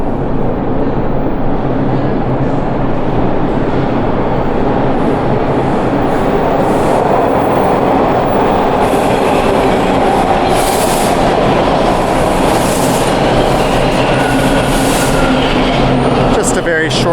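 A Toronto TTC subway train rumbles loudly and continuously in a station, with a dense roar and clatter that holds for the whole stretch, and voices are faintly mixed in.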